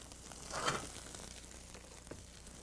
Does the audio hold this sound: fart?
no